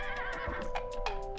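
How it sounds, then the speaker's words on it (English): A horse in a video game whinnies loudly and close by, with a wavering neigh over soft clip-clop hoofbeats and ambient game sounds. "Here's the horse."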